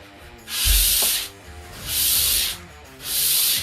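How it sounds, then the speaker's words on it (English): A foam-backed abrasive pad, like sandpaper on a pool noodle, sanding a spice rack in three long rubbing strokes with brief pauses, close and loud. "what it is a foam backed abrasive. So it's kind of like sandpaper on a pool noodle"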